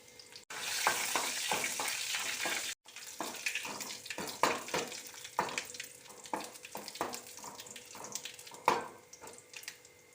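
Dried red chillies and curry leaves crackle and sizzle in hot oil in a pan, with close scraping stirs and sputtering pops, the frying briefly cut off twice before carrying on.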